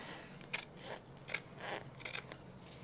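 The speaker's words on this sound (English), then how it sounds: "Just cut away that border fabric." Scissors snip through quilting border fabric during machine appliqué, several crisp separate cuts spaced about half a second apart, close and fairly quiet, with no talking.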